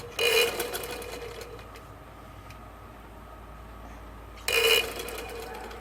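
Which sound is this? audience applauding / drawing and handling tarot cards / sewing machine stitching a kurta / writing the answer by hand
sewing machine stitching a kurta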